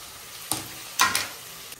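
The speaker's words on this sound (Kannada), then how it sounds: "ಈರುಳ್ಳಿ ಬೆಂದ್ಮೇಲೆ ಒಂದು ಟೊಮೊಟೊ ಹಾಕ್ತಿದ್ದೀನಿ." Tomato dropped into onions and curry leaves frying in a pan, giving several soft bursts of sizzling and stirring over a steady low frying hiss.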